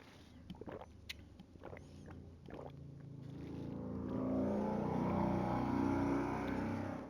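A loud car passes by outdoors, its engine noise swelling from a faint approach into a broad, sustained roar that peaks and then begins to fade, with a few sharp knocks early on.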